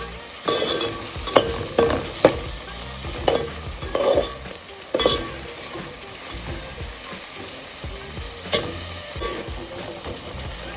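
Onions and cashews frying in a pan for Andhra-style vegetable biryani, with intermittent loud stirring scrapes and clatters over a soft continuous sizzle.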